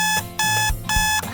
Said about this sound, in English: Stop the alarm clock, shutting it down.